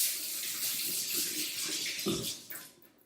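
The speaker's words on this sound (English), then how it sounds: "Okay, now I'm going to rinse." Tap water runs steadily into a sink for rinsing freshly cut beets, a broad close hiss that stays level and then fades near the end as the flow is shut off.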